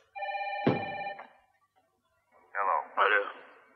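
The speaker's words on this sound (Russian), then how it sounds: "Ему звонит кто-то еще." A telephone rings in a steady electronic tone for about a second, breaks off with a click, then is followed by a short pause and two bursts of close speech.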